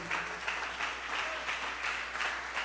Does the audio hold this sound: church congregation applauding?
yes